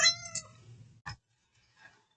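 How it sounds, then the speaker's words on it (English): A cat gives a couple of short, close meows indoors, followed by a brief click and a faint trailing mew in a quiet room. "Freaking cat over here just meowing at nothing."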